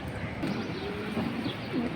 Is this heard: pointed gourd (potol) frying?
no